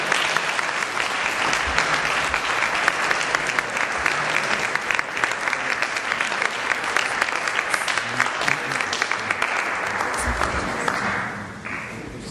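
A crowd at a Hindu temple claps steadily in sustained applause, dense and loud, tapering off slightly near the end.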